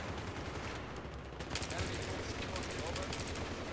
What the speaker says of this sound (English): Make sure you don't freak out and you shoot short burst fire